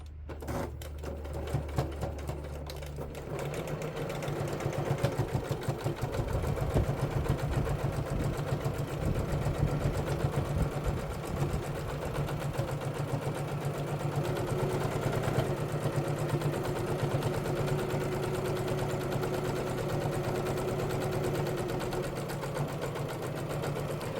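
A sewing machine hums and rattles steadily for a long stretch, stitching slowly through the thick layered fabric of a book sleeve, close and continuous.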